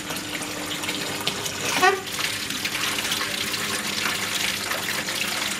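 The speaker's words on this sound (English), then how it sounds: "Let's give it a full water flow." Water from a larger aquaponics pump running at full flow, a steady broadband rush and splash filling the system, continuous and fairly close, with a brief gurgling burst near the start.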